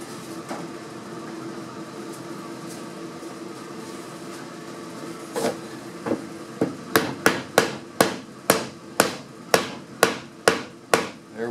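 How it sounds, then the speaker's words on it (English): A mallet taps on wood while closing the gap in a bifold door for a Mission-style secretary, a few scattered knocks at first, then a quick, regular series of sharp, close blows. "Then we get our tap hammer, otherwise known as a mallet"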